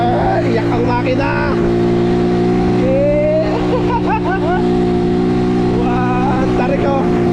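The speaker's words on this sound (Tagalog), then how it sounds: "Iyak ang makina." Car engine labouring up a very steep road, a loud steady droning hum that holds throughout, with people talking over it.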